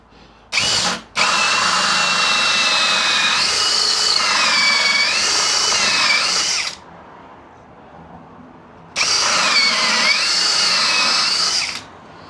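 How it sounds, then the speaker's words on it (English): A Lidl Parkside hole saw bores through treated pine in two loud, steady bursts of power-drill whine, the first lasting about six seconds after a brief start, then a pause before a second shorter run. "Let's get a piece of pine and go through a piece of pine."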